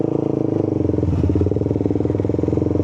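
A Suzuki GSX 150 motorcycle engine idles close by with a fast, even pulsing beat, the idle hunting slightly as it settles.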